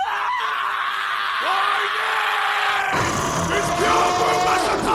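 Birds squawking and screaming in Monster Hunter: World, shrill overlapping calls over continuous game ambience, steady and loud throughout with a sharper burst midway.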